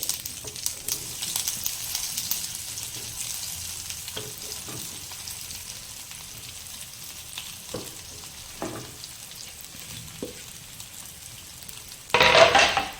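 Steamed methi muthiya tipped into a hot tempering of hing and sesame seeds, giving a steady soft sizzle and crackle with a few light knocks, then a louder burst of frying at the end; no speech.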